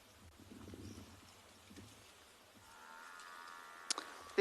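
Buffalo lowing in the open at sunset on safari: a faint, deep moan at the start and a longer, slightly louder low call later, heard at a distance, with a brief click near the end.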